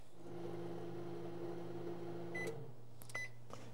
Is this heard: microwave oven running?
yes